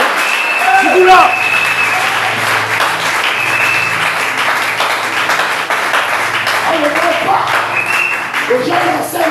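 A church congregation claps and cheers together, with dense continuous applause mixed with shouting voices and a sustained musical tone underneath. Loud and close.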